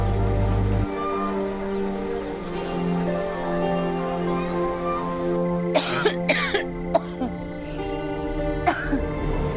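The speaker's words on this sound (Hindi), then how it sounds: "कुछ नहीं, बस हल्की फुल्की सी खांसी है।" A woman coughs in a series of sharp, dry bursts that grow more frequent toward the end, heard close over a murmur of background sound.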